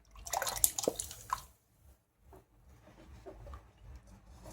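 Water splashes and trickles loudly at first as it is poured onto flour and mixed, with drips and liquid stirring, then fades to quiet, faint sloshing and small movements.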